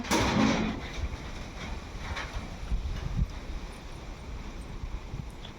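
Wind blowing outdoors in a village as rain approaches: a steady, rushing broadband roar with buffeting gusts on the microphone, strongest at the start and continuing throughout, with no talk.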